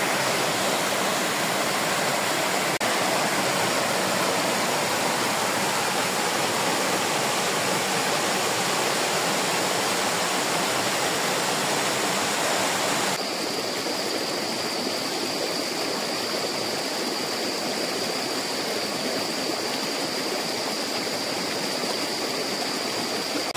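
A small waterfall and stream in Pokhara rush steadily, a loud, dense and even wash of flowing water close at hand that continues without pause, shifting slightly in tone partway through.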